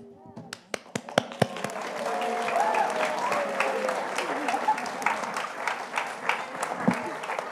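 A church congregation at a Sunday worship service breaks into applause after hearing the story of the lost son, opening with a few scattered claps that swell into steady, moderately loud clapping, with voices murmuring underneath.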